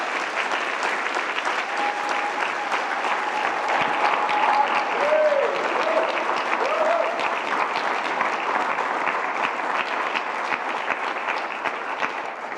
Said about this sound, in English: Can we show them a big round of applause?